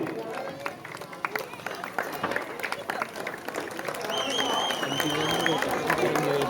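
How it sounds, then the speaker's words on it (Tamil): An audience at a prize-giving ceremony applauds a winner, a broad wash of clapping hands that swells and grows steadier over several seconds, mixed with crowd chatter and a voice talking over it. "நல்லா கைதட்டுங்க"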